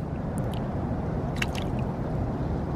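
A small bass released back into the water by hand gives a few faint splashes and drips over steady outdoor background noise at the waterside.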